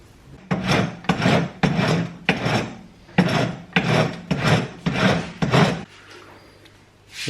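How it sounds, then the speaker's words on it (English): A hand file rasps back and forth across a motorcycle clutch spacer on a KTM 350 EXC, about ten loud, even strokes in a steady rhythm, then a pause with faint background noise. "just file down the spacer till all of that goes through properly"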